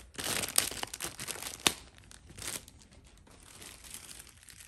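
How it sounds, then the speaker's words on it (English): Crinkly plastic packaging rustles and tears as a Trick or Treat Studios Chucky Good Guy plush doll is pulled out, close and fairly faint, with a couple of sharper crackles and softer handling noises after. "Let's go ahead and take him out of the packaging."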